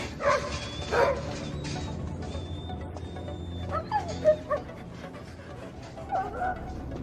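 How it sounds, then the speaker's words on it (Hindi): Several fighting dogs in a Hindi-dubbed Hollywood action movie bark, yip and whimper over a low background rumble, with scattered near and slightly distant canine cries across the scene. "ये सभी लड़ाकू कुत्ते हैं।"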